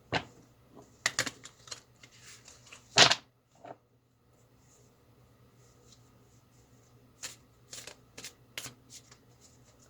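A Rosebud Tarot card deck being shuffled close up, with several sharp riffling bursts and soft card slaps separated by quiet pauses, a longer silent gap in the middle.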